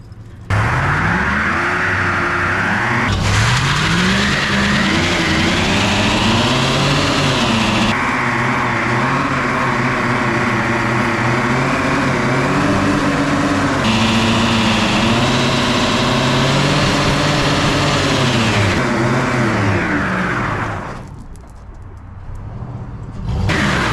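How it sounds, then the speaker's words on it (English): A truck with an LS engine runs steadily and loudly for most of the clip, its pitch rising and falling as it is moved, before it drops away near the end. No one speaks. "Let me move my truck out the way."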